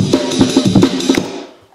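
A drum break plays as a loop, with a busy, punchy pattern of kicks, snares and cymbals that runs loud and steady before trailing off at the end.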